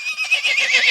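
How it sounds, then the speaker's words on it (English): A horse whinny sound effect, a single bright, high neighing call with wavering pitch, loud and close, heard alone for under a second. "just add a horse whinny over top of it"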